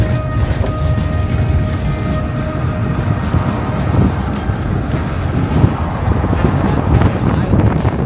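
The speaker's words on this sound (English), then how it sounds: "Really windy," Strong wind in Australia buffets and roars continuously, rumbling low and gusting throughout, with faint other sounds beneath the blustery noise.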